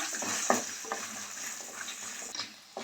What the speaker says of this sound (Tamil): இஞ்சி பூண்டு சேர்த்து கொஞ்சம் நல்லா வதக்கிக்கலாம்